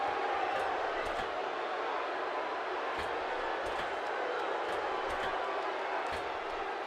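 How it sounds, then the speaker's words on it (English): Crowd noise from a wrestling arena in the WWE 2K16 video game, a steady roar of cheering with scattered sharp thuds, loud and continuous throughout. "Hot crowd here tonight in Minneapolis"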